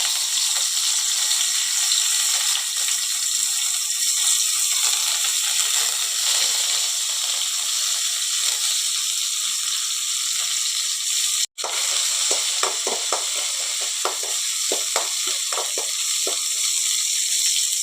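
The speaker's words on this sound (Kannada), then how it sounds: "ಒಗ್ಗರಣೆ ಮಾಡಿಕೊಳ್ಳಿ. ಸ್ವಲ್ಪ ಉದ್ದಿನ ಬೇಳೆ, ಸ್ವಲ್ಪ ಸಾಸಿವೆ ಹಾಕಿದ್ದೇನೆ." Oil tempering with urad dal, mustard seeds and coriander leaves sizzles steadily and loudly in a pan, a continuous bright hiss with crackles and pops growing busier toward the end.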